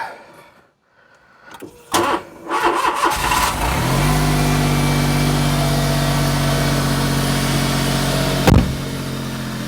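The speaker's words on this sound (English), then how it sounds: "So start the engine." A starter motor cranks in short bursts, then a Smart Fortwo engine with a boost leak catches and settles into a steady, loud idle nearby with the engine cover off.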